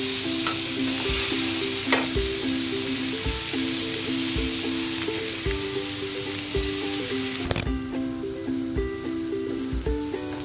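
Onions roasting on a dosa pan for an onion dosa make a steady, close sizzle with a faint crackle. Light scraping and tapping come through now and then, and the texture thins a little after the first seven seconds.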